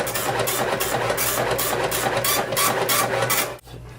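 Office printer running as it prints spirometry test results, a steady loud mechanical whir with a regular pulsing rhythm that stops abruptly near the end.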